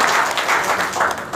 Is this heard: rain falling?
no